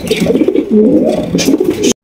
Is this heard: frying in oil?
no